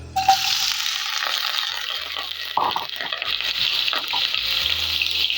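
Steady sizzling of onions frying in hot oil, with occasional stirring scrapes and clinks, close and continuous throughout.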